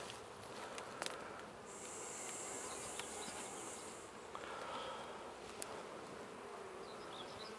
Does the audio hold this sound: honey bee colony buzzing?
yes